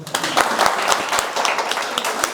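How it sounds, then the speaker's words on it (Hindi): An audience at a dialogue event claps in a short, lively burst of close applause with distinct individual hand claps throughout. "तालियां बजा दो यार।"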